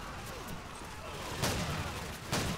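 Flashbang grenade detonating in Call of Duty 4 gameplay: two sharp, loud bursts of noise about a second apart, standing out from a steady bed of game sound.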